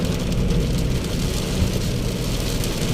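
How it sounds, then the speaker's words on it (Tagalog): Sudden heavy rain drums on a house roof in Pasig, a loud, continuous, even roar of dense drops with no breaks, close overhead. "Dinig na yung bubong namin"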